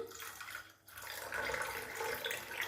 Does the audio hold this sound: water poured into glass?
yes